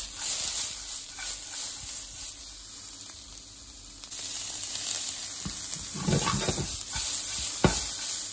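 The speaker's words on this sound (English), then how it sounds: "Oil, onion, we want to caramelize these." Onions caramelizing in hot, smoking oil in a pan give a steady sizzle and hiss, with brief louder crackles and stirring scrapes toward the end.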